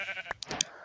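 A sheep bleats in a video game played in hardcore mode: a short, close series of wavering bleats lasting under a second, standing alone with no talk.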